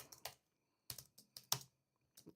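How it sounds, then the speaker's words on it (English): Typing on a computer keyboard: quick clusters of light key clicks separated by short pauses, close and fairly quiet, with no talking. "Typing is going to be an issue today."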